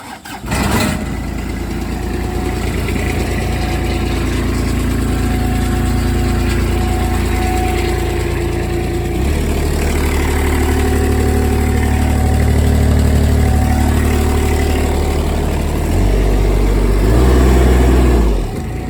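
A Tennant 4300 diesel floor sweeper engine cranks, catches and settles into a steady, close idle, its rumble shifting pitch slightly partway through; no talking.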